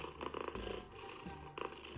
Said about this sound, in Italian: Vediamo se fa le fuse anche Molly